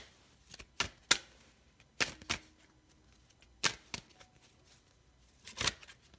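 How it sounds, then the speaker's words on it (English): A deck of tarot cards is shuffled in quiet, close, separate bursts of riffling and flicking, with short pauses between them. "Shuffling the wrong deck."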